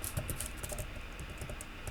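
Rapid, steady clicking of computer keyboard keys, pressed close and continuously in quick succession for a couple of seconds with no voice over it.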